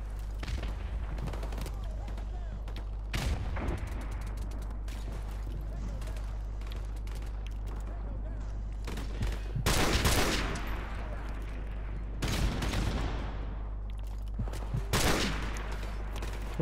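Gunfire in Call of Duty: Modern Warfare, with scattered shots and a couple of louder bursts of rapid fire over a steady low game drone.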